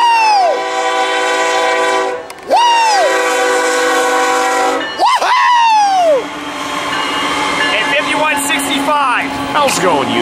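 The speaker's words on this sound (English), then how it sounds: "Here comes 784 about to come into Oceanside Station." Amtrak train arriving at Oceanside station, several loud horn blasts sounding as it approaches, followed by rumbling railcar noise, with people talking nearby.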